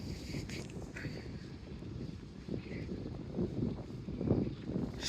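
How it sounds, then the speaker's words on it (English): Blustery wind sweeps across the Ocean City, New Jersey beach near the boardwalk in the off-season, a steady low rumble buffeting the microphone with gusts that swell louder toward the end. "It's also very windy."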